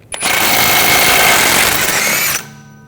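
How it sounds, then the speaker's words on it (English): An impact-style power tool spins a 36mm socket to remove the axle nut on a 2013-2022 Buick Encore's right rear CV axle, a loud close burst of about two seconds that stops abruptly. "Using a 36mm socket, take the nut off."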